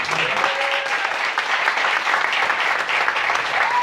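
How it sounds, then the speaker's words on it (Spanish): Loud, close applause from a theater audience cheering a musical group after a performance of El fantasma de Canterville, dense and continuous with a few brief tonal sounds over it. "fuerte el aplauso para ellos."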